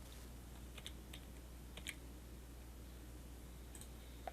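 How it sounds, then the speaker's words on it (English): Computer keyboard keys tapped while playing a strategy game, a few soft scattered clicks spaced apart over a constant low hum, faint and close. "I think I can use my other hand for the keyboard to just navigate instead of the mouse"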